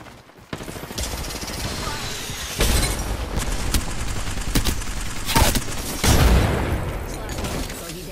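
Gunfire in the battle royale game Apex Legends, with scattered shots and bursts of varying loudness, some close and sharp, alongside game ambience and a voice speaking.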